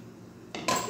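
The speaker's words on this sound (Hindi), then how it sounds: "दम खोलने का टाइम आ गया" A metal pot lid lifted off a pot of rice after slow dum cooking in a home kitchen, a short scrape followed by a bright metallic clink, close and clear with no talk.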